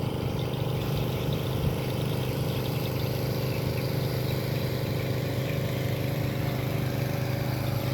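Motorboat engines running at the Sungai Durian river pier in Sintang, a steady mid-pitched outboard drone with a constant hum, moderately loud and unbroken, with no talking.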